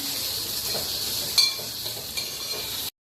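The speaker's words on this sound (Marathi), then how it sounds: "त्यानंतर कांदा, कांदा छान लाल होईपर्यंत परतून घ्यावा।" Chopped onion sizzling and being stirred in a hot pan for a Marathi dry-fish salan, a steady hissing fry with a couple of brief scraping clicks before it cuts off abruptly.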